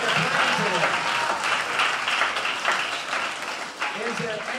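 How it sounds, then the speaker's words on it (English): A school auditorium audience applauds students at a high school symphony orchestra concert, steady sustained clapping from a sizable crowd with a few voices underneath. "Let's have a round of applause for all the students"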